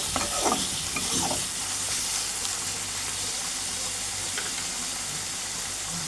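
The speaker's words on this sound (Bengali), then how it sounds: "একটু ফ্রাই করে নেব।" Garlic paste frying in a pan for a coconut milk shrimp malai curry, a dense close sizzle with a few stirring scrapes at the start, then a steady hiss throughout.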